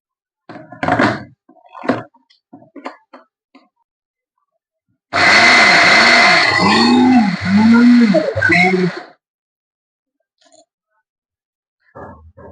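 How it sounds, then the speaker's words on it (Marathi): A kitchen mixer grinder whirs loudly for about four seconds while grinding red peanut chutney with cumin powder and salt, its motor pulsing in a steady rising and falling rhythm, framed by soft handling knocks before and after. "आता मिक्सरला बारीक फिरव"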